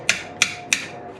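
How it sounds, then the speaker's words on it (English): Three sharp metallic strikes of a 3-pound hammer driving a Torx bit onto a fastener during Subaru transmission fluid service, evenly spaced and close, each with a short ringing decay. "we place the Torx bit on the fastener, 3-pound hammer"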